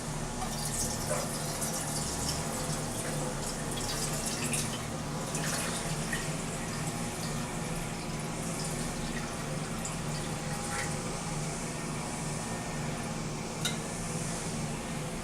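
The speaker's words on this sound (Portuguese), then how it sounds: "vamos colocar a água ali na panela, os 500 ml" Water is poured into a cooking pot, about 500 ml, as a steady close splashing stream that runs unbroken and fairly loud throughout, with no voices over it.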